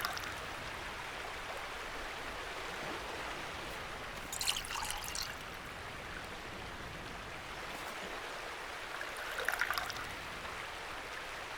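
Water pours steadily from a jug into a container in a survival video game, a continuous close trickling stream with two brief brighter splashy bursts partway through.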